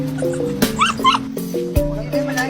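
Several dogs bark and yip at a market where dogs are sold for meat, short sharp barks repeating over a steady hum with people talking nearby.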